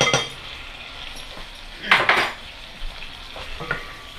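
A spoon scrapes and clinks around a heated pan of melted butter and lemon juice, with a soft sizzle beneath a few short stirring strokes, close and fairly quiet with no talk.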